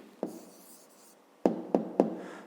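Pen or pencil marks on paper while writing a math answer by hand: a few sharp taps and short scratches, sparse and close, with quiet pauses between strokes.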